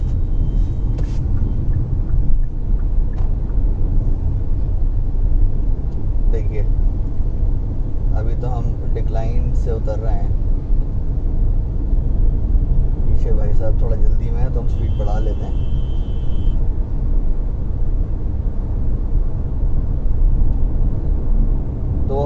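A Hyundai Alcazar cruising smoothly in sixth gear at about 60 km/h produces a low, steady engine and road rumble inside the cabin, heard beneath someone talking throughout.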